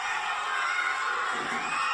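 A large crowd roars and cheers continuously at a live wrestling show, a dense, steady wash of voices with shouts and whoops rising throughout.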